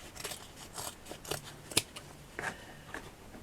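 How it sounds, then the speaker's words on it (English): Scissors snip through a fabric petal for a handmade flower, a handful of short, crisp cuts spaced irregularly, close and fairly quiet. "I'm just going to cut."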